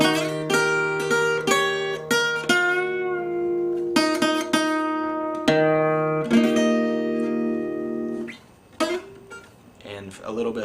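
Acoustic blues guitar plays a passage, fingerpicked chords ringing out and ending on a D-shape chord, with no voice over it.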